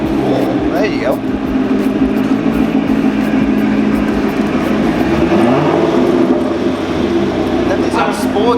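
Steady engine drone from a stripped-out pro drift chassis running continuously throughout, loud and near, with voices talking over it.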